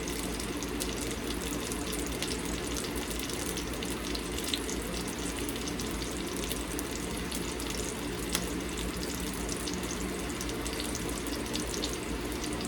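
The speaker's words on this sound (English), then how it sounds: "let me drain a little bit of this out. That might be too much water." Water is poured off a pot of cooking carrots into a sink, a steady splashing rush that stays fairly even throughout with no talking.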